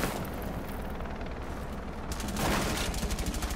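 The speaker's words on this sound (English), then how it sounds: "They're shooting at me, Bradley." Rapid gunfire in a video game, continuous automatic bursts and loud booming shots in a thick barrage, growing more distinct and rhythmic in the final second.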